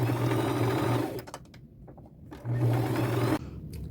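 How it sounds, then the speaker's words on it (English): A sewing machine runs in two steady bursts while stitching striped fabric for a thrifted jacket, joining the pieces with right sides together in a quarter-inch seam. A quiet pause with a few soft handling clicks separates the two runs. "I only want to sew the striped fabric together at the end"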